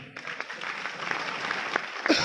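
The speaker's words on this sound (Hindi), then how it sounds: "मिस्टर दिवाकर जी वो आ रहे हैं, उनके लिए जोरदार ताली होना चाहिए" A conference audience of private investors in Rourkela, India, applauds as Diwakar is called to the stage. Dense, continuous clapping fills the hall at a moderate level, with a few sharper claps standing out near the end.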